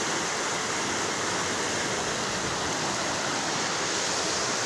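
A rushing, flooded stream in Cabulihan, Vallehermoso, Negros Oriental gives a constant, dense broadband roar of flowing water, close and unbroken throughout, with no voices.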